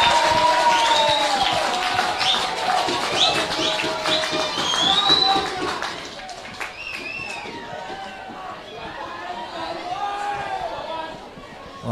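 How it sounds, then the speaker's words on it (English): Rugby league supporters at a grand final cheer and applaud their players in a rousing reception, a dense crowd roar with whistles and shouts that swells early and then eases, with a commentator's voice running over it. "the Patterson supporters giving their players a rousing reception"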